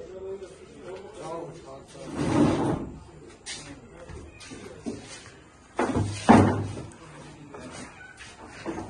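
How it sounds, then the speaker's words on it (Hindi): Chairs are picked up and moved around a room, making a few loud clunks and knocks, one near the middle and a cluster toward the end, under people talking. "कुर्सी उठा लो सारी ये वाली।"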